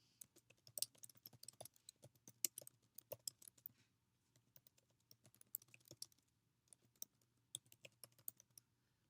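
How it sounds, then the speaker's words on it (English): Fingers type a post on a computer keyboard, quick close clusters of key clicks in irregular bursts with short pauses between words, quiet and alone with no talking. "I'm going to delete that and then type in my post"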